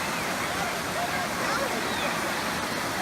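Water rushing and splashing at a waterfall slide in a barn, a continuous loud broadband roar of falling and churning water, close and steady throughout without clear separate splashes.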